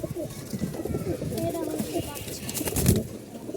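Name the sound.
male pigeons cooing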